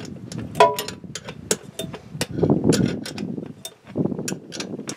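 Oil filter canister being turned back onto the aluminum filter housing of an IH 444 tractor, with scraping metallic clicks and grinding turns in short uneven bursts, close and moderately loud.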